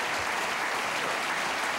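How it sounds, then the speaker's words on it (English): A television studio audience applauds on a late-night talk show, a dense, steady wash of clapping throughout. "People always applaud that."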